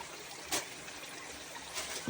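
Spring water trickles out of rock inside a cave, a faint continuous wet hiss with two brief louder splashes standing out.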